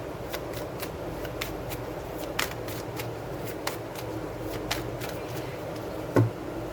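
Tarot cards are shuffled and picked in a quiet room, giving soft papery flicks and snaps at irregular intervals. A slightly louder tap lands near the end.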